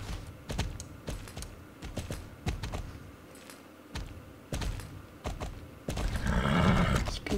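Horse hooves in the video game Star Stable Online clip-clop in a steady rhythmic gait, close and moderately loud, with a brief louder rustle near the end.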